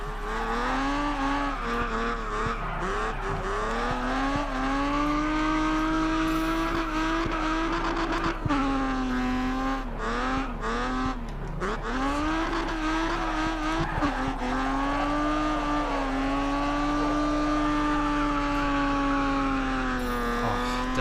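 Race car drifting in GRID Autosport: a sustained engine howl with long, wavering tire squeals, pitch dipping and rising through shifts and slides over about twenty seconds, loud and steady without pause.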